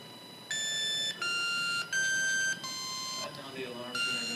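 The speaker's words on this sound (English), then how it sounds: "The alarm's going to go off for 15 seconds, and after that time is up, it'll start to drive around." A runaway alarm clock on wheels beeps its alarm in loud, evenly spaced electronic tones, with a few short gaps between bursts and a shift in pitch near the end.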